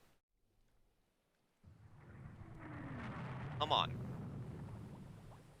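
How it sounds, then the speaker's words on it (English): Heavy rain and thunder in the naval strategy game Rule the Waves 2 make a steady rushing wash that starts abruptly and swells, with a brief voice speaking over it. "we're in heavy rain."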